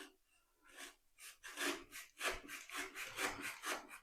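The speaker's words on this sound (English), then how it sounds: "I'm using this mitre block which guides the blade to the correct angle." A hand saw cutting coving held in a mitre block, quiet close rasping strokes that start slowly then settle into a quick steady back-and-forth rhythm, with no talking.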